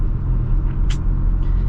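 A mid-sized pickup truck engine rumbles low and steady while driving on a freshly redone road, a short close drone with a brief higher hiss partway through.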